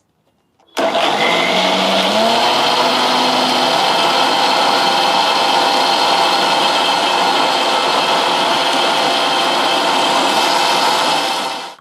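A kitchen mixer blends pineapple with water into a juice, starting abruptly after a brief silence into a loud, steady high whir that holds evenly until it cuts off at the end.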